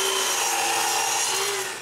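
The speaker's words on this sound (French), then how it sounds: "Je commence donc à couper tous les morceaux que j'aurai besoin." Maple pieces being cut for a wooden bandsaw frame, a continuous power-saw whine with steady tonal hum, loud and close, running without pause before tapering at the end.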